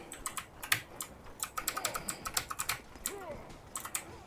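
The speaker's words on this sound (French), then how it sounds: "On sent le clavier mécanique de Loïc." Rapid clacking keystrokes on a mechanical keyboard during a Mordhau game session, a close, uneven rhythm of sharp taps with brief pauses and faint background sounds.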